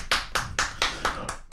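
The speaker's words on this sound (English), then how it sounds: "round of applause for Ray." A round of applause from a small group in a room, six sharp, evenly spaced claps, close and brief, with no talking.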